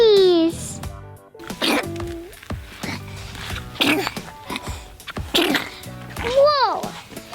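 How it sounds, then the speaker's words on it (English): Cartoon cat superhero giving a voiced, exaggerated sneeze amid animated character speech and sliding cartoon sound effects, with children's voices talking around it. "Super cat sneeze."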